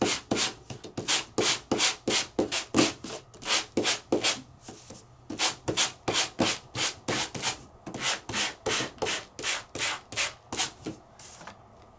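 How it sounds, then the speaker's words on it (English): Sandpaper held in a Sand-It gadget is rubbed over embossed paper in quick, rhythmic back-and-forth strokes, a steady series of close, scratchy rasps with brief pauses. "I could take my sandpaper, hit it with my Sand-It gadget."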